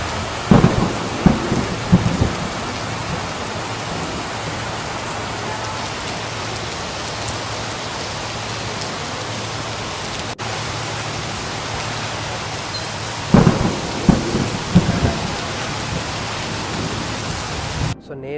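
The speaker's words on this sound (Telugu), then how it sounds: "ఆ లెవెల్లో వర్షం పడ్డది." Heavy rain pours steadily outdoors during a wedding reception in Telangana, a dense continuous roar with brief louder rumbles of thunder near the start and again toward the end.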